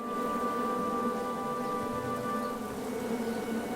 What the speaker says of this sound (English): Shame about that buzzing beehive, though.